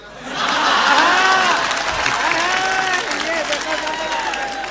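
Audience at a Hindi poetry recital breaks into sustained applause, a dense wash of clapping with scattered cheers and laughter; a voice continues reciting over it.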